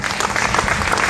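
A crowd in a meeting hall breaks into brief, loud, continuous applause, many hands clapping together close by.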